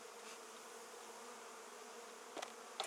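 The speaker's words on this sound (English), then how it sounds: "let's get these bees into here first off" A steady, dense hum of a honey bee swarm buzzing close by in Biddenham, with a couple of brief clicks near the end.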